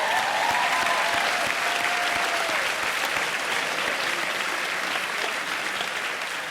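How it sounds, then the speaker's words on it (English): Audience at a school commencement ceremony breaking into sustained, dense applause that stays loud and even throughout, with a few faint voices and whoops mixed into the crowd noise. "Let's give him a round of applause for that."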